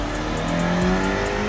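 A Toyota GT86 or Subaru BRZ with its stock exhaust revs as it leaves a car meet, a loud, close engine note climbing briefly in pitch over a steady rumble.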